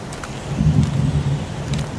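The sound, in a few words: heavy rain and thunder in the video game Heavy Rain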